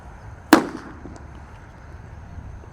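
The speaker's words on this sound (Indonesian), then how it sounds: "di sini ada mercon Gledek guys. Sudah menyala, kita masukkan." A Gledek firecracker goes off in a hole in the ground with one sharp, loud bang that decays quickly into quiet outdoor ambience.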